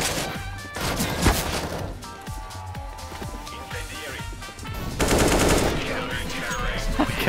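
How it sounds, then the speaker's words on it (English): Rapid automatic gunfire in the shooter CS:GO, sustained, fairly loud bursts of rattling shots with a heavier, denser stretch near the end. "I kept shooting Neva."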